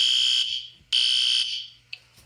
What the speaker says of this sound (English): The fire alarm is going.